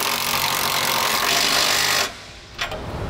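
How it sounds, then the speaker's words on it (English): A 9/16 socket on a power tool tightens the air spring bracket bolts during an Air Lift LoadLifter 5000 install on a 2017 Ford F-250. A loud continuous whirring runs for about two seconds, then cuts off, followed by a short burst. "Now using a 9/16 socket, tighten all those bolts down."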